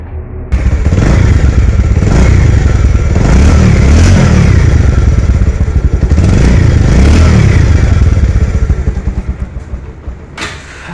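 A Bajaj Pulsar motorcycle in like-new condition is started and revved up close, its loud engine rising and falling through several strong throttle blips, then settling toward idle and cutting off near the end.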